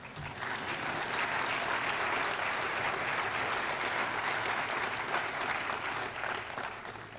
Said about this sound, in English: There should be some applause at this point.